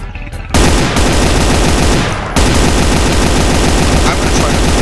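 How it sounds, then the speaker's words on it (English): Loud, continuous gunfire and explosive blasts from the video game Brutal Doom fill the clip, with a short break before the barrage resumes at full intensity. "I'm gonna toss a grenade up here"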